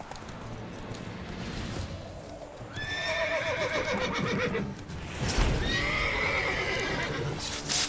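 Horses in The Witcher 3: Wild Hunt whinny and neigh loudly in two long calls, with steady clip-clop of hooves and outdoor ambience running underneath.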